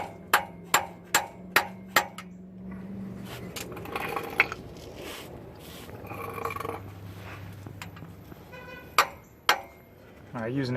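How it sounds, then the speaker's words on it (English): Sharp metallic hammer strikes drive a pilot bearing into a 4th gen Camaro/Firebird crankshaft using an 18mm socket and a reversed extension, about five quick ringing blows, a pause filled with clattering and shuffling, then two more hits. "Using an 18mm socket, an extension inside of it backwards, and a hammer."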